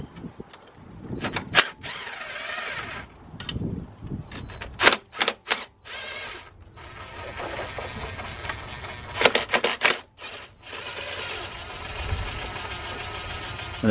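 Metallic ratchet clicks and clatter from a wrench undoing the four 10mm bolts on a BMW M47/M57 diesel EGR valve, coming in sharp bursts separated by brief pauses, close and fairly loud.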